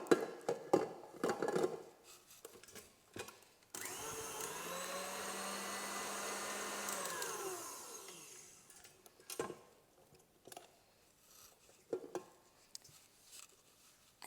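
An electric stand mixer whirs in one short, steady burst as it blitzes buttercream frosting, rising sharply and cutting off after a few seconds amid scraping and clinking kitchen noises.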